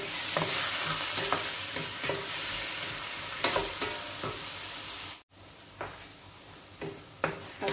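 Tomatoes sautéing in a pan for a ginataang ampalaya and sitaw dish, a soft continuous sizzle with repeated spatula scrapes and taps, close by, briefly cut off midway before the stirring resumes.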